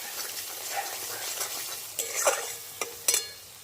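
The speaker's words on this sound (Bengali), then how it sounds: "কাশ্মীরি রেড চিলি পাউডার দিয়ে খুব ভালো করে একটু কষিয়ে নিয়ে" Spices with Kashmiri red chili powder are sautéed in a pan for a Bengali rohu fish curry with mustard, poppy seed and sesame, giving a soft steady sizzle broken by several sharp scrapes and clinks of a spatula.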